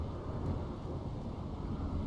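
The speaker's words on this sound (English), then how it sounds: "Bit of a thunderstorm going on." A Rimworld thunderstorm plays as a steady, dense low rumble of rain and wind, filling the whole stretch evenly without distinct thunder cracks or any talking.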